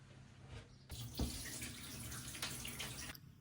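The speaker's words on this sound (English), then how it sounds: "time to remove the water from the dye pots" Water pours from coffee dye pots, a steady splashing rush that starts suddenly, runs for about two seconds with a brief heavier gush early on, then cuts off.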